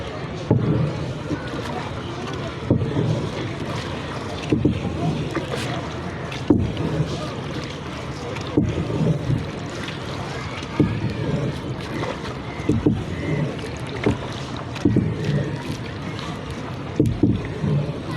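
Rowboat on a park lake, with rhythmic oar strokes splashing and knocking every second or two over gentle water and wind noise, close up.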